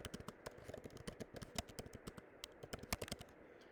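Rapid computer keyboard typing as a title is entered, a steady stream of close, crisp key clicks with irregular rhythm and occasional louder strokes, no voices.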